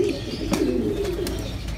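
Pigeons cooing inside a loft, low soft throaty coos repeating close by over a faint background murmur.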